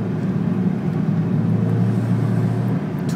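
Car engine idling and held at a gentle rev as a little gas is given, with a tire pressure sensor fault showing: a close, steady low rumble with an even drone, no talk.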